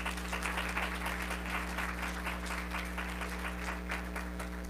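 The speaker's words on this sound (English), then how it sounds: "let's give yourselves a round of applause" An audience at a JP Morgan Chase fireside chat applauds steadily, a dense wash of many hands clapping together with a steady low hum underneath and no gaps.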